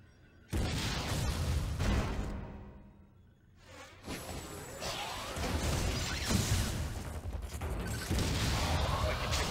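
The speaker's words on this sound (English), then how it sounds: "Why not say hello with a missile?" Missile launched and exploding in Metroid: Other M, with a loud crashing blast followed by whooshing debris and continued rumbling impacts over dense game sounds.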